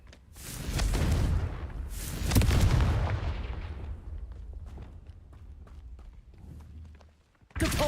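Confringo fire spells detonate in Hogwarts Legacy as heavy, rumbling explosions, two big booming blasts rolling into a long decaying roar with small crackles, then another sudden blast at the end.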